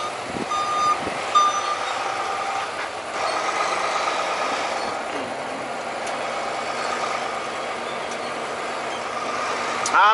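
A delivery truck sounds steady, repeating reversing beeps while backing in at a freight dock, with engine rumble underneath throughout.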